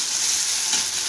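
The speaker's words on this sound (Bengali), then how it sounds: "পেঁয়াজ মরিচ রসুন সবগুলো ভাজা ভাজা হয়ে গেছে" Ginger paste goes into a pan of frying onion, chili and garlic, giving a loud, even sizzle that holds steady close up with no voices.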